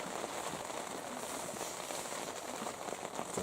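Rain mixed with snow and sleet hits a window in blustery weather, making a steady, soft, hissing patter with no pauses; it is fairly quiet and there is no talking.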